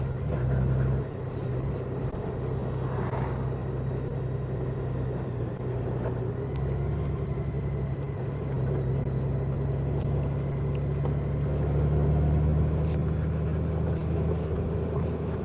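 A motorbike rumbles steadily along a dirt road at dawn, its engine drone constant and close with wind noise over it and no talk.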